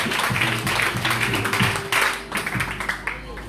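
A church congregation claps and cheers for Jesus Christ, a burst of dense applause with voices mixed in, rising and falling in waves over a few seconds before thinning out.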